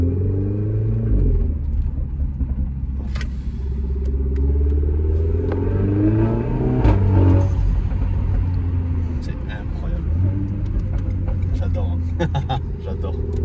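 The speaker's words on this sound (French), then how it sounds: "Elle hurle cette voiture, c'est quelque chose d'assez impressionnant." A Renault Megane 4 RS engine roars and revs from inside the car with the sunroof open, its pitch climbing and dropping through gear changes while someone talks over the steady engine drone.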